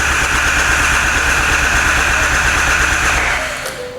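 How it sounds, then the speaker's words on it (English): A Triumph Rocket 3 motorcycle with a shorted fuel pump is cranked on its starter motor without firing: a steady, loud, continuous mechanical whir and churn that holds level for several seconds, then tapers off near the end, with no voices. "a lot of starter motor action, not a lot of fuel to start that whole process of the engine actually turning over"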